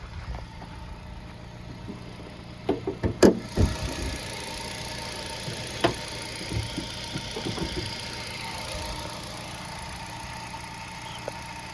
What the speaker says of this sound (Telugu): మీరు ఇప్పుడు ఇంజన్ సౌండ్ అయితే వినొచ్చు